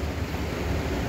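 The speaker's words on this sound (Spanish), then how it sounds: "Solamente el agua está simplemente corriendo hacia abajo" Irrigation water for sugarcane crops pouring steadily down into a reservoir channel, a continuous close broadband rushing roar with no pauses or voices.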